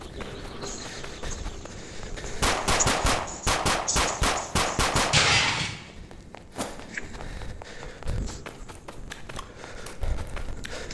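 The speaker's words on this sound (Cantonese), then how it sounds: "用埋槍聲的" Video game gunfire comes in rapid automatic bursts, loud and dense in the middle, then eases into scattered single shots and clicks.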